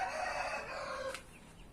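Chickens cluck and call nearby in a short, fairly quiet burst of drawn-out vocal tones that fade toward the end.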